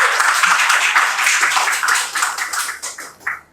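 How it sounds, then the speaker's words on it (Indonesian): Applause from an audience at a student discussion event, a burst of clapping that thins out into scattered individual claps over a few seconds. "Tepuk tangan lagi buat Bang Ica, yuk."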